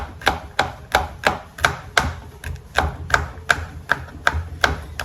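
A knife chopping garlic into small pieces on a board, about sixteen evenly spaced sharp taps in a steady rhythm, close and clear with no talking.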